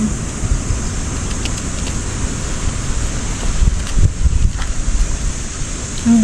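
Strong northeast monsoon wind in a rural Philippine countryside roars steadily against the microphone, a loud continuous rush with gusty low buffeting and no speech.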